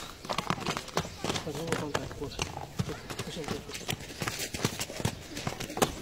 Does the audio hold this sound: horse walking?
yes